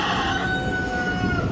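A rooster crowing close by, one sustained strained call filling the whole moment with a steady harmonic tone, heard alone with no talk.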